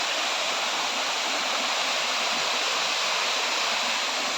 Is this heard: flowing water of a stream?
yes